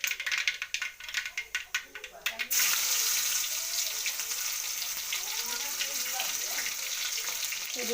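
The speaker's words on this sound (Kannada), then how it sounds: "ಇವಾಗ ಬೆಳ್ಳುಳ್ಳಿ ಹಾಕೋತೀನಿ." Garlic dropped into a pan of hot oil with spluttering mustard seeds: a few seconds of sharp crackling pops, then a sudden loud, steady sizzle that fills the rest of the time up close.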